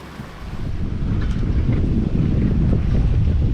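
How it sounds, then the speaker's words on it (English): A sailboat running under wind power on the open Pacific, with loud wind buffeting the microphone, steady rushing water against the hull and a constant low rumble, with no voices. "it looks like the wind has granted us one last sail for Sitka on the Pacific"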